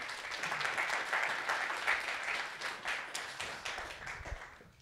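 An audience at a round-table event on video games claps steadily for several seconds, a dense, even wash of applause with no speech over it.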